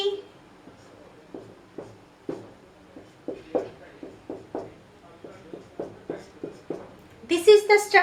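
Chalk tapping and scraping on a board while a chemical structure is written, a run of short, distinct strokes in an irregular rhythm, fairly faint and close, with a brief louder burst of sound at the end.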